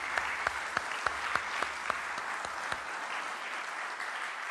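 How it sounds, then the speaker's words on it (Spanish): A church congregation claps, a few sharp distinct hand claps standing out at the start over a steady, fairly quiet wash of applause that continues to the end. "denle un aplauso al Señor, hermano"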